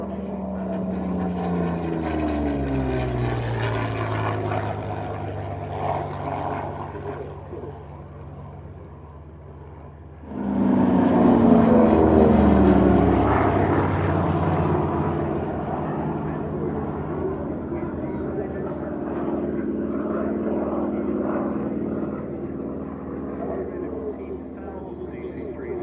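Yak-9 propeller fighter, a 1940s Soviet warplane, flying at the Duxford Flying Legends airshow: steady engine drone with harmonic bands, surging louder midway as it passes closer, with commentary over a public address throughout.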